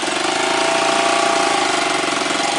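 A rented ATV engine idles steadily up close on Isla Ometepe, a loud, even mid-pitched putter with no revving.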